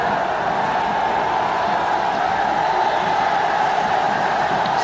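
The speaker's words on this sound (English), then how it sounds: "Capacity crowd here." A capacity crowd fills Sher-e-Bangla National Stadium during a cricket match, giving a steady, dense, distant roar of murmuring spectators that holds evenly throughout with no distinct voices standing out.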